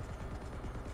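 Gunfire from an attack helicopter in War Thunder, a dense steady rattle of rapid shots close by under a constant low engine drone, with no pauses through the second.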